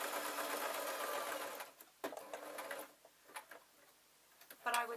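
A sewing machine stitches a fabric sweet tray in a steady, dense whir for nearly two seconds, then breaks into short, quieter bursts and clicks with pauses between them, ending with another brief run.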